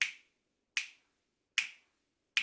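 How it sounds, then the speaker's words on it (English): Four crisp finger snaps in a steady, evenly spaced rhythm, close and dry, with silence between each snap and no voices. "then you snap 2."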